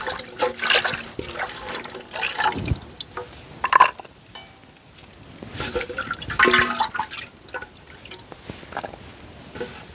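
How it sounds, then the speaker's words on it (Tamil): Green chillies swished and rinsed in a vessel of water, with close splashing, dripping and trickling in uneven bursts and short quieter gaps. "நாங்கள் பச்சை மிளகாயும் கழுவி எடுக்க போகிறோம்"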